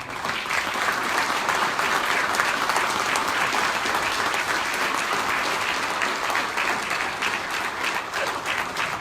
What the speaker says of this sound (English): help me give those guys a round of applause.